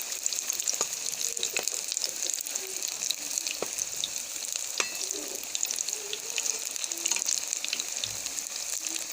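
Cabbage pakoras fry in hot oil with a constant bright hiss and scattered small crackles and pops, close and steady.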